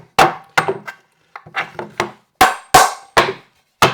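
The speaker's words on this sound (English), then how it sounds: "we're going to just tap it with a hammer" A hammer tapping a carriage bolt during siding repair, about ten sharp, ringing metallic taps in uneven clusters, close and clear, with short pauses between groups.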